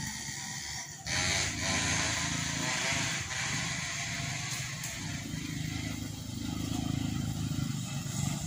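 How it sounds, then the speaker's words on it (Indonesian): A small motorcycle engine runs steadily up close on a rural track during an afternoon squirrel hunt, a continuous buzzing drone with a brief rev near the start and roosters crowing faintly in the background. "Bawa motor, guys, mau dinaikin tuh motornya."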